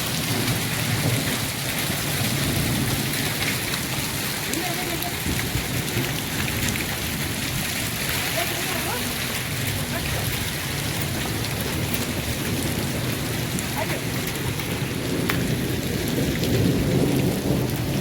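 Heavy stormy rain with hail and thunder in Bagasara, a dense steady roar of downpour pounding surfaces, with low rumbling thunder running beneath it throughout.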